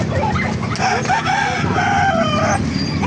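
Chickens cluck and a rooster crows nearby amid steady farmyard noise at an animal market, with no clear talking.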